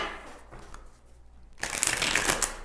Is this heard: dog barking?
no